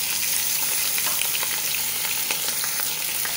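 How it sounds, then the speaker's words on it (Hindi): Mutton browning in a pot for degi biryani gives a steady, dense sizzle and crackle, close and even, with faint stirring and no talk. "मटन को अच्छी तरह से भून लेंगे"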